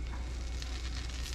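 Lemon juice hisses and splatters in a hot frying pan while cooking artichoke chicken with basil and garlic, a steady close sizzle running throughout with no talking.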